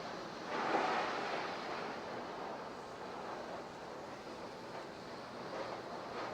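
Fish fries skin-side down in olive oil in a non-stick pan, giving a steady soft hiss and sizzle that stays even throughout, with a slightly louder burst near the start.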